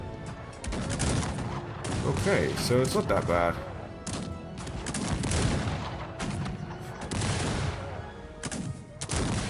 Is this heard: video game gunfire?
yes